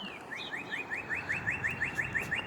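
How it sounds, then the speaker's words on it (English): Pet birds chirp indoors in a quick, repeated run of bright rising tweets at a fairly even rhythm, moderately close and alone over a low background hum. "My other bird came to join you."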